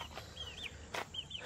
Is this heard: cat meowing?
no